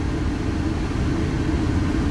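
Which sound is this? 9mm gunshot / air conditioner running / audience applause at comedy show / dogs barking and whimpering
air conditioner running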